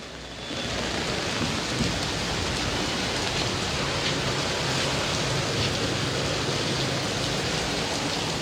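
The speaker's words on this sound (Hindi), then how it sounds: "लगातार बिजलियां कड़क रही है" Heavy monsoon rain pours steadily over the Mahananda River in Siliguri, West Bengal, a dense, continuous roar of broadband hiss that swells in after a brief moment and holds level. Thunder may be mixed into the downpour. No one speaks.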